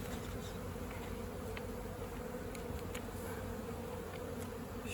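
Steady, dense buzzing of many honeybees close by, a continuous low drone filling the whole stretch with no talking.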